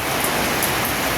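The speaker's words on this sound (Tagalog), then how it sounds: "At umulan na." Steady rain pours at a house in Pototan as a dense, even hiss with no breaks. No voices are heard.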